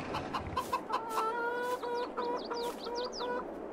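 Chickens in the farming video game Farming Simulator 22 cluck repeatedly in short rhythmic calls, fairly close and moderately loud over a soft steady background, with no talk.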